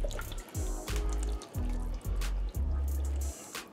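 V8 juice glugs out of its bottle into a slow cooker for chili, about two cups poured in a few uneven surges of low, bubbling gurgle, close and fairly loud with no talk.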